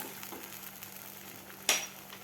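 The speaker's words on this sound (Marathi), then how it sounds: "व्यवस्थित आपल्याला हा मसाला परतून घ्यायचा आहे" Masala sautés in oil for shev bhaji, a faint steady sizzle and crackle close by, with one brief sharp scrape of a spoon against the pan and no talk.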